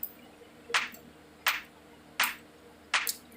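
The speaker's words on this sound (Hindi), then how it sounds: "ताली की आवाज़ है" A clap sample in an FL Studio beat hits four times at a steady, evenly spaced rhythm, each one a short, sharp, bright burst standing alone over a faint background.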